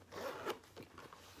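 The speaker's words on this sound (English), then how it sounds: "which is the zipper" A zipper on the main compartment of a Coach bag is pulled open in a few quick, close rasping strokes, with a short pause before a final tug; no one speaks.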